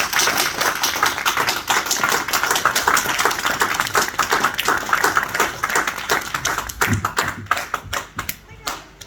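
A church congregation breaks into cordial applause, dense rapid clapping from many hands filling the space loudly and steadily before thinning out into scattered claps near the end.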